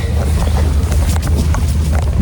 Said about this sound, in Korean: 바람이 점점 많이 불고 있거든요